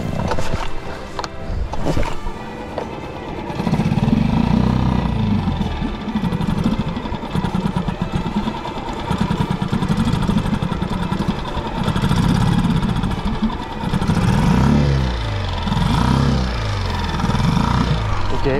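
A 2 hp outboard motor on an inflatable rubber boat runs at a steady mid-pitched putter, close and continuous, with voices talking over it near the start.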